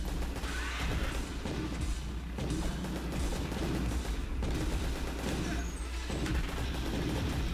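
Dense, continuous gunfire and crashing blasts from the video game Cathode Raybots fill the whole stretch without a break, loud and steady, with no clear voices over it.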